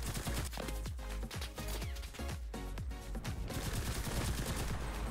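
Rapid bursts of gunfire in a World War II shooter set in Tunisia, fairly loud and dense, with sharp repeated cracks and thumps tumbling over one another across the whole stretch, and no voices.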